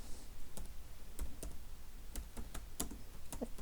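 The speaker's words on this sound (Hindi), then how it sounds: "आप यहाँ पे टाइप करेंगे निम्बस स्क्रीन कैप्चर।" Typing on a computer keyboard, a sparse run of separate key clicks at an uneven rhythm, close and fairly quiet over a low steady room hum, with no talk.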